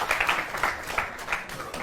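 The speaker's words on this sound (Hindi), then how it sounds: "बहुत जोरदार तालियां आप गुरु के लिए बजाएं।" An audience claps for Guru, a two-year-old child answering quiz questions, in a steady patter of moderate applause lasting a couple of seconds, with a voice faintly present.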